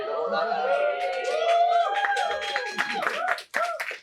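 Talk show audience members clap in sharp, scattered bursts that grow denser toward the end, mixed with overlapping voices of people talking.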